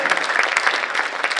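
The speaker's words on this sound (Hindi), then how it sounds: "तो ये विदेश से आए हुए संत जो हैं उनको एक बार जोरदार तालियों से हम उनके कार्यों को" A crowd at a Hindu religious gathering in India claps energetically for visiting saints from abroad, a brief, close burst of dense applause.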